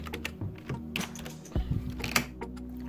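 Fingers tap on a computer keyboard in quick, irregular bursts of close, crisp clicks while a church flyer is being made, with a few louder keystrokes and no talk.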